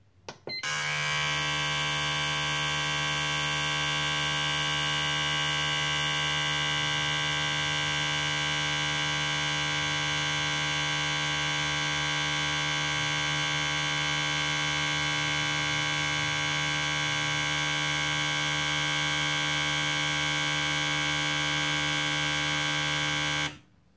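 Ford 24lb fuel injectors running on a flow test bench at about 4,000 RPM give a steady, loud electric hum with a fixed buzzing pulse, holding constant for the whole stretch with no voices.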